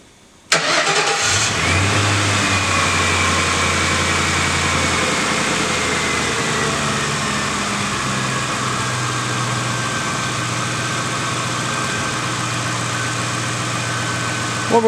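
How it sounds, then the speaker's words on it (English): A car engine cranks and catches with a sharp start, then settles into a steady, close idle that drones evenly for the rest of the clip, with no talking over it. "So I'll start the vehicle."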